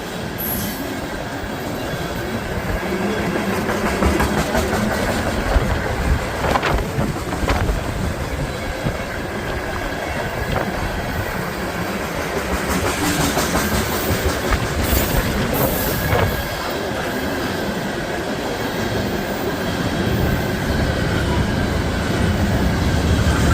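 A long freight train rolls past steadily and loudly up close, a continuous rumbling roar with rhythmic wheel clatter over rail joints and occasional high squeals from the wheels.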